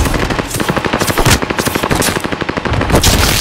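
Rapid automatic gunfire in the video game Call of Duty, dense overlapping bursts, loud and close, with no talk.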